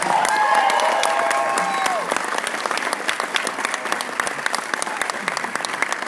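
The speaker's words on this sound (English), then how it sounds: "You guys can clap for that too" Audience applause at a cast Q&A for the film Aliens in Knoxville: loud, dense clapping from a large crowd, with a few high whoops and cheers at the start, then steady sustained clapping to the end.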